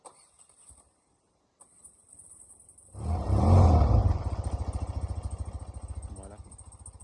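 A warm BMW R100G/S Paris Dakar flat-twin motorcycle cranks and catches after a quiet pause, then settles into a loud, close, pulsing idle with a steady throb. Brief voice sounds come before the start.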